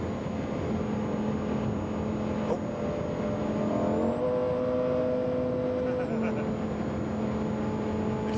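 A Lamborghini at high speed on an unrestricted stretch of Autobahn, heard from inside as a steady loud engine drone with road and wind roar and a brief shift in engine pitch partway through.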